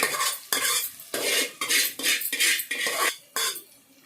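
A metal spoon stirs and scrapes toor dal with panaganti greens frying in a pan, with repeated rhythmic scraping strokes about every half second, up close and without talking.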